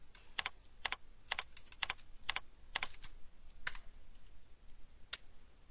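Computer keyboard typing while filtering reports in CA View 11.0 software: a handful of distinct, crisp key clicks in irregular bursts, close and fairly quiet, with no voices.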